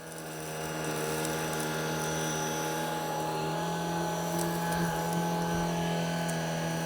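A Shark IZ363HT cordless vacuum running over carpet with a steady, droning motor whine and high brush-roll hum that builds up in the first second, then holds close and even.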